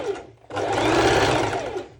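A sewing machine running a straight stitch on swimwear fabric, a short pause then a steady, loud, fast mechanical whir that holds for about a second and a half.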